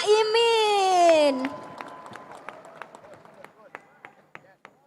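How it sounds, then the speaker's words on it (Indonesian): After a loud voice, an audience at a political debate event gives Cak Imin a sparse round of scattered individual claps, fairly close, thinning out and growing fainter. "Beri tepuk tangan untuk Cak Imin"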